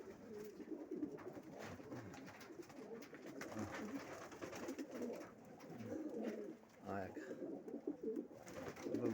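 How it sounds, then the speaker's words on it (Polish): Racing pigeons cooing close by, repeated soft throaty calls overlapping one another, with someone talking quietly in the background. "Przepiękne gołębie."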